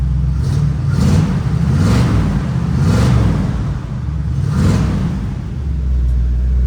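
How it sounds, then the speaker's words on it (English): A 1968 Chevrolet Camaro with dual exhaust is revved repeatedly, giving four or five loud rising-and-falling blips over a rumbling idle, heard up close with no talking. "So there, sounds great, dual exhaust."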